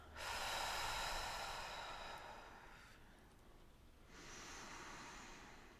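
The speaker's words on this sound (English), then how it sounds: "I invite you to take a nice deep breath with me." One slow, deep breath is drawn in audibly close to the mic and then let out softly, with a quiet pause between inhale and exhale.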